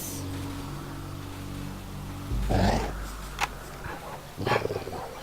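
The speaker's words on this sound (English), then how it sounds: "Dog, shut up." Game dog creature in a strategy game barks and growls in short loud bursts over layered battle noise and creature roars, with a low rumbling snarl in the middle and sharper yelps near the end.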